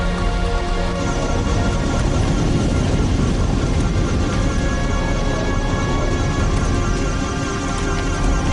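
Spacecraft landing sound effect in a science-fiction scene, a loud, dense roaring rumble with layered mechanical tones that holds steady throughout, with faint speech in the background.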